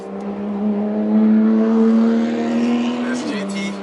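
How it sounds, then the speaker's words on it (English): An Aston Martin Vanquish speeds past on an open road, its engine note rising in a sustained smooth drone that swells as it approaches and drops away at the end, heard loud and close. "I see some fast cars coming from behind,"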